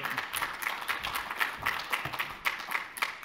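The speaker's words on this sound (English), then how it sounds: "Can we please give a huge round of applause to welcome Ian to the stage" Audience applause in a conference hall, a soft, fairly distant patter of many hands clapping continuously at even volume.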